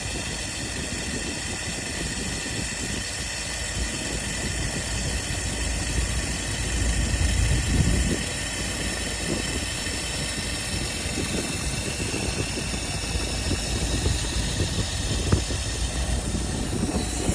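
A 1999 Mazda Miata engine idles steadily during a Seafoam treatment, a constant rumble with a hissy wash. It swells slightly around the middle, and no one talks over it.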